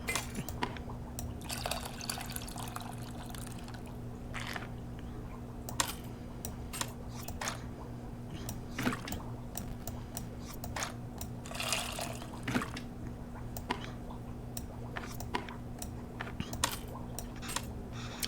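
Tamarind extract water strained through a sieve in the cooking game Venba: soft, steady trickling and dripping liquid with small glassy taps, quiet throughout and no speech.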